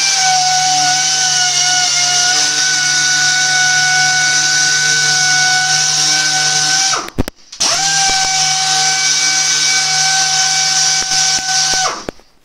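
A polishing machine buffs a car wheel rim with a steady high whine and motor drone, stopping briefly partway through, then running again at full speed before winding down.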